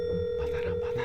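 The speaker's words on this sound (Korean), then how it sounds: "바로 전화를 해보도록 하겠습니다" An outgoing phone call ringing on the line, heard as a steady electronic ring tone that holds through the whole moment, with faint background murmur beneath it.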